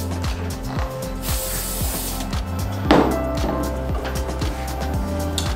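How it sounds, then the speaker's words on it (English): WD-40 is sprayed to clean the fork stanchions of a bike, heard as a couple of short hissing bursts over a steady mechanical clatter in the background. "WD-40 just for cleaning."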